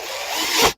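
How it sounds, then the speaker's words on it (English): A cordless power drill with its clutch set low drives a screw into a plastic sewing machine foot pedal, a loud steady whir lasting under a second that cuts off abruptly. "you want to be really careful when you're using a drill like I am"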